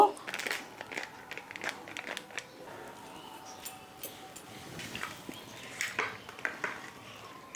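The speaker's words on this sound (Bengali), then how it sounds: "মাছগুলো কেটে ভালো করে ধুয়ে নিয়ে এসেছি এখন লবণ হলুদ মাখিয়ে নেব" Cut bojuri fish being rubbed by hand with salt and turmeric: soft, irregular squelching and crinkly rubbing noises in close, quiet bursts, with faint clinks now and then.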